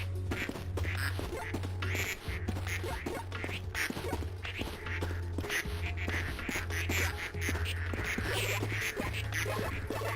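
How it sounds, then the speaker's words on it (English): Ducks quack steadily throughout in the Project P.I.T.T. video game, a dense run of repeated calls over a constant low electronic hum and loud game ambience. "Some ducks landing here?"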